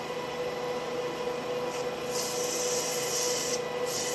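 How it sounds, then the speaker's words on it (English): Sandpaper rubbing a turned wooden lidded box spinning on a lathe, a steady continuous hiss over the motor's hum, swelling slightly in intensity partway through. "you don't want to see me sand, but you get the idea"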